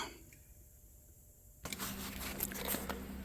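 Near-silence for a moment, then loud broadband wash bay machinery noise starts abruptly and keeps going, a steady rushing roar with rattles and clanks on top.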